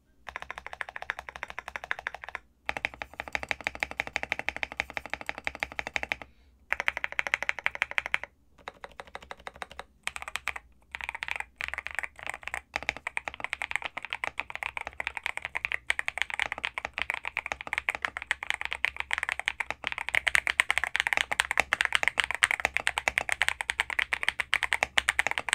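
Rapid typing on a budget Zuoya GMK67-S mechanical keyboard with lubed switches and a tape mod, giving soft, muted, clacky keystrokes in continuous bursts broken by a few brief pauses, close and alone.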